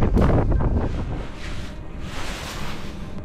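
Gusty upland wind in the Cheviot Hills near Hen Hole roars across the microphone, loudest at first and then easing to a steady, slightly weaker rush, with no one speaking.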